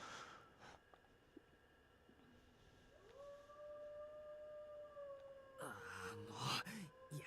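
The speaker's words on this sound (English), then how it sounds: "The dog is still howling somewhere outside the window." A dog howls somewhere outside a window in the Tsukihime visual novel, a long, steady, faint tone drawn out over several seconds against a quiet room, followed by a louder burst of noise near the end.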